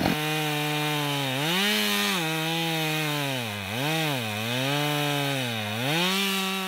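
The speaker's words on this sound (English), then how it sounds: "This chainsaw is terribly dull though" A dull chainsaw cutting into a log outdoors, its engine droning loud and steady and dipping in pitch several times as the blade bogs down in the wood. No one speaks.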